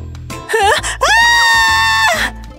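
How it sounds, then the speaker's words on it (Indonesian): A person screams loudly and close, a short wavering cry followed by a long sustained high-pitched shriek lasting over a second, heard alone. "Kenapa teriak?"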